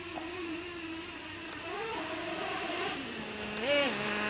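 A Traxxas Revo 3.3 nitro RC truck buzzes along with a steady engine whine. The pitch climbs and drops as it shifts into second gear and rises again near the end, heard from a moderate distance.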